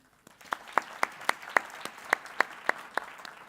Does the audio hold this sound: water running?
no